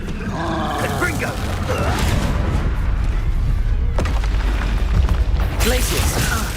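Confringo blasting spells explode in Hogwarts Legacy, loud rumbling booms and crackling blasts recurring through a dense battle mix, with a sharp burst near the middle and another near the end.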